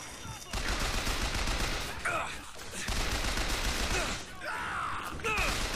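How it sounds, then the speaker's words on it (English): Heavy gunfire rattles almost without pause in Bioshock Infinite, bursts of shots coming from behind the player in a loud, chaotic firefight, with brief breaks between volleys. "I'm getting shot from behind"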